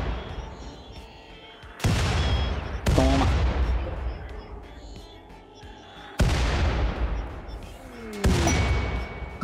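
Bombs exploding in the colony game RimWorld, four heavy booming blasts spaced a few seconds apart, each a loud sudden impact that rumbles and decays into lingering crackle.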